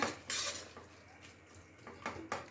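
Onion and tomato are pounded in a pan over a medium flame with a metal utensil, giving a few sharp clanking knocks and scraping hits at irregular intervals, fairly quiet and close, with no talking.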